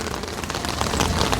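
Dense rain pours down in a loud, continuous wash of broadband noise, with rough rumbling texture and no voices.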